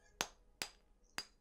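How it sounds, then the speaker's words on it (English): A hammer strikes a chisel against a wall in the Pillars of Eternity game, three sharp, clear metallic blows at uneven intervals against a quiet background. "Use the hammer and chisel to weaken the wall"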